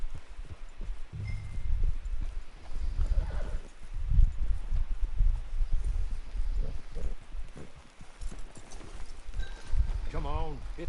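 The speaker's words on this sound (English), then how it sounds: "It's your horse." Horse hooves clip-clop in Red Dead Redemption 2 Online, mixed with a whinny and snorting near the end, under game dialogue.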